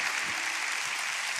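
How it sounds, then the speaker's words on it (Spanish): Audience applause in a church congregation, steady and dense throughout, a continuous wash of clapping with no talk over it. "Dale un aplauso a la gente que está en casa."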